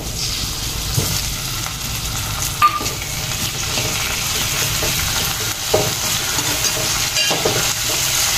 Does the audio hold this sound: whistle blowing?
no